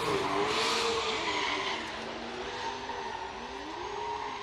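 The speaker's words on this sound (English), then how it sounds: "he's going to light up the Falcon tires, show you that his car is up and running" A drift car at a Formula Drift Long Beach event lights up its Falcon tires in a burnout, a loud, sustained engine roar with rising and falling revs over a hissing wash of spinning rubber, continuous and fairly close.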